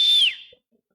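During a church sermon, a single short human whistle imitates a shepherd calling sheep, a sharp, high note sliding downward and fading within half a second, followed by silence.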